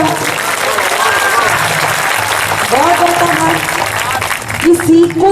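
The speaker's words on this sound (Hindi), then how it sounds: "अतः आशीष देने के लिए ताली बजा" Audience applause at a Hindi kavi sammelan poetry recital, a dense, loud and sustained clapping from a crowd that runs the full length while a voice talks over it.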